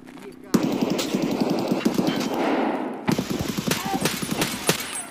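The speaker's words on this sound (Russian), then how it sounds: "Кто стреляет?" Rapid automatic gunfire bursts in Escape From Tarkov, loud close volleys repeating over several seconds with a sharp pause midway, while players talk over the shots.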